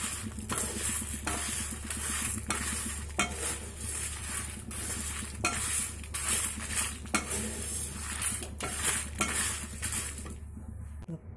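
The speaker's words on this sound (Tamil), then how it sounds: "இதில் நல்லா பொன்னிறமாக வர வரைக்கும் வறுப்போம்" Lentils, dried chillies and sesame seeds are dry-roasted in a pan, with continuous close stirring and scraping, light rattling of the grains and a faint sizzle throughout, ending abruptly.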